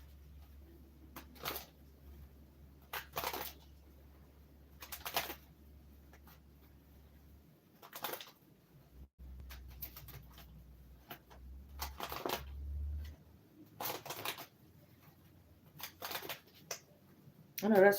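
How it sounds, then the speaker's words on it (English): Tarot cards are shuffled in quick riffling bursts at a live reading session, a series of crisp, brief rustles repeating every second or two, faint and close, with a low hum and occasional talk between them. "Shuffle these cards really good before I start to pull."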